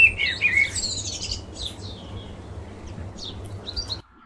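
A garden ambience effect: several birds chirp and tweet in bright overlapping calls over a soft low background hum, busiest at the start, then thinning before cutting off abruptly near the end.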